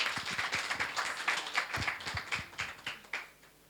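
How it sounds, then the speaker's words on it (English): At a young women's dialogue gathering, an audience gives a speaker a round of applause, distinct individual claps standing out in a soft, uneven patter that continues steadily. "We can give her a round of applause."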